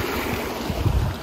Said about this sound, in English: So they set it up as kind of a natural waterfall thing